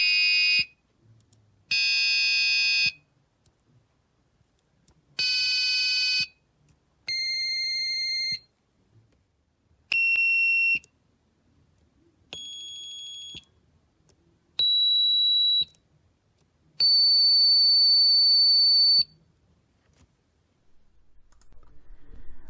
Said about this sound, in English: Pressing any one of the 8 push buttons here will give us a different tone on